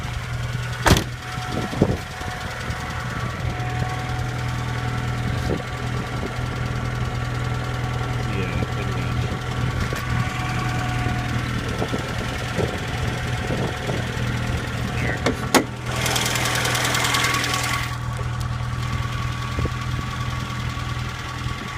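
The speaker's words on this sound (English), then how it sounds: "It sounds to me like it could just be lifters." A car engine, a 1990 VW Golf or 1997 Saturn SC2, idles steadily with a low hum and faint rapid lifter ticking, occasional clunks and a burst of hiss partway through, and someone speaking nearby.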